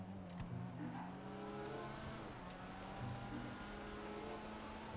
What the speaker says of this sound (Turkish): Şimdi arabayı burada deneyeceğim arkadaşlar, sürüşünü yapacağım.